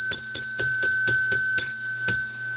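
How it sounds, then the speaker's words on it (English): A bright metallic bell rings rapidly with about eight evenly spaced strikes, close and loud, each ring sustaining under the next. "I got to ring the bell."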